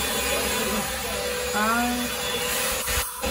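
A 3-in-1 vacuum cleaner runs indoors with a steady, dense whirring drone that fills the whole stretch, with a brief rising whine partway through and a short dip near the end, as people talk over it.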